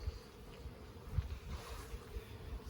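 Honey bees drone around an urban hive, a faint low buzz with soft irregular swells and brief louder passes from individual bees nearby.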